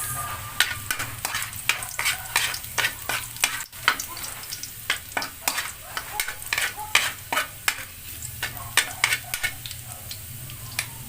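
Garlic sautéing in a pan for pancit bihon gives a constant close sizzle, with quick rhythmic scrapes and taps of a utensil stirring throughout.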